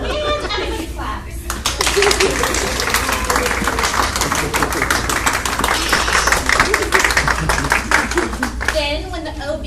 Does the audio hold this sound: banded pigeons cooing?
no